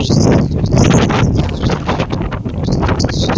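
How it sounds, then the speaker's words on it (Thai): Strong wind blows steadily on a cold day, roaring into the microphone with a constant broadband rush over about three seconds. Leaves rustle and scatter faintly beneath it, and no one talks. "ลมแรงจริงๆด้วยนี่ใบไม้ปลิวปลิวสวัยเลยนะคะ"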